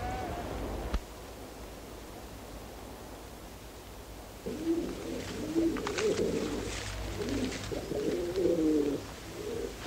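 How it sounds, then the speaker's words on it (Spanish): Blind decoy pigeons tied in a holm oak treetop for a hunt, giving soft, low cooing calls in repeated bursts over a steady outdoor background hiss, moderately near. "No se trata ahora de la Milana, sino del cimbel, de los palomos ciegos"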